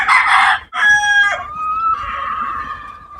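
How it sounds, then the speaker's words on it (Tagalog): Chickens on an afternoon walk past a yard, a rooster crowing loudly and close in a drawn-out call, followed by softer clucking and calls from the flock, with no talk over it. "ito yung mga manok"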